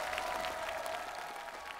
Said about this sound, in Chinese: 掌声给我们的歌手们。